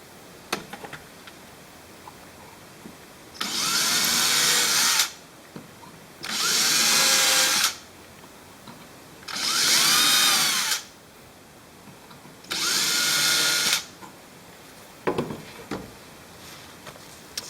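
A power drill bores into G10 knife handle material in four separate bursts of a few seconds each, loud and close, with short quiet pauses and faint handling clicks between runs.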